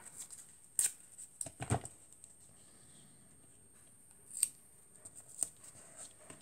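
Masking tape pulled and pressed onto a handmade paper Christmas card, heard as a few quick soft tearing and rubbing sounds spread across a quiet stretch with long pauses between.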